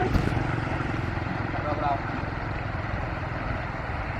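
A Massey Ferguson 290 tractor beside a river, hauling rice paddy, rumbles past with a steady low diesel drone that holds loud and even throughout, as someone talks over it.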